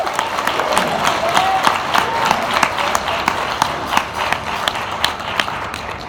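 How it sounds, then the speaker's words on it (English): A roomful of people at an NAACP MLK breakfast give the speaker a loud, sustained round of applause, with many hands clapping rapidly and continuously, close and even throughout. "Let's give our speaker another round of applause"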